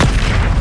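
Bombarda spell explosion in Hogwarts Legacy, a loud, dense boom that fills the whole short moment with heavy low rumble and no voice over it.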